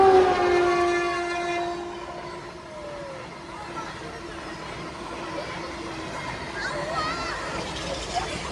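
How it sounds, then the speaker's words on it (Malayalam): A train passes near a riverside in the rain, opening with a loud horn blast, then a sustained rolling rumble and rail clatter that slowly fades, with a voice speaking over it. "ഒരു ട്രെയിൻ വരുന്നുണ്ട് കേട്ടോ."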